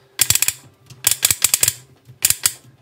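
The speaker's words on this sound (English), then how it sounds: "Nice clickety ratchet going around." A Transformers Legacy United Titan Class toy's ratchet joint clicks through three quick bursts of sharp, evenly spaced plastic clicks, close up with no talking.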